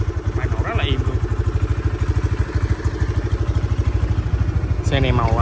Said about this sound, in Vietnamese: Máy nổ rất là im luôn.